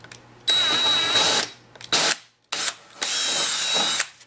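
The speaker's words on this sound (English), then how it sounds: "I'm gonna take my 3/8 bit and I'm gonna follow up right where this test hole was and I'm gonna drill a 3/8 hole." A power drill bores a 3/8 inch hole in a wall for a toggle bolt, loud and close, running in several bursts with brief pauses and rev changes between them.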